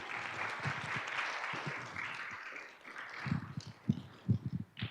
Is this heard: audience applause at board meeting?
yes